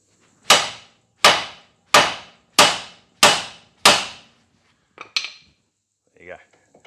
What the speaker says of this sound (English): you can also hit here with the hammer, which will separate the ball joint section